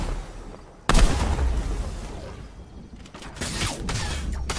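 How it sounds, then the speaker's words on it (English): Sniper rifle shot in Fortnite landing as one sudden loud crack with a booming tail, followed by rumbling game noise and more gunfire-like bursts, with no voices. "And I just got sniped."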